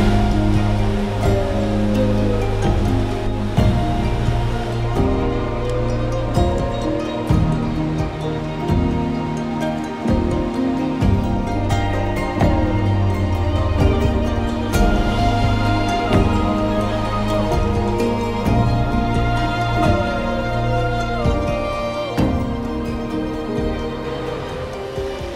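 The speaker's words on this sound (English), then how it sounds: "the rapids." Rapids on the Raven Cliff Falls Trail in Georgia's Chattahoochee forest, with rushing water making a loud, steady roar that runs without a break for the whole stretch and has no voices over it.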